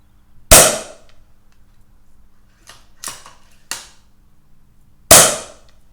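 An air rifle fires pellets through a SKAN Pro 1 Series 3 Diamond chronograph, with sharp close single cracks: one shot, a few lighter clicks and clacks, then another loud shot, separated by quiet pauses.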